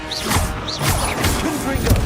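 Confringo fire spell blasts cast in the Hogwarts Legacy video game, a quick series of sharp crackling bursts with whooshing tails, loud and close, repeating about every half second.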